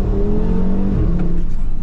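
An Audi RS Q3 SUV engine pulls hard under acceleration, a loud close-up drone with rising and shifting engine tones heard from inside the cabin.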